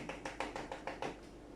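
Toothbrush flicked to spatter white paint stars, giving a quick series of about seven soft, dry ticks in an irregular rhythm, close and quiet.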